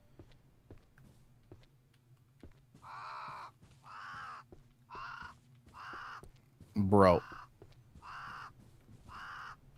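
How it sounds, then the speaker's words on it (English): In a video game demo, a crow caws in a slow series of about seven harsh, evenly spaced calls, loud and close, while someone briefly speaks once in the middle. "There's just some crow just cawing."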